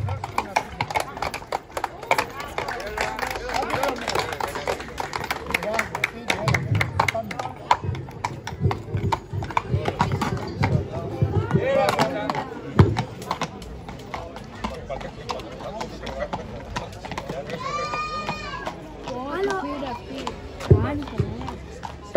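Horses' hooves clip-clop on the ground during a horse beauty contest at a seaside village festival on Lesbos, a steady busy patter of steps mixed with crowd chatter and a voice over a loudspeaker.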